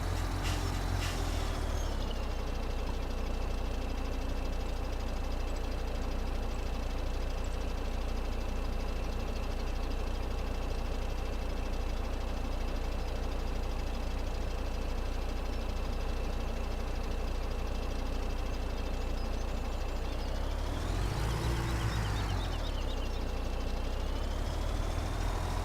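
A truck engine idles steadily in a farming game on the County Line map while wheat is loaded, a constant mid-pitched drone with a brief rise and fall in revs near the end.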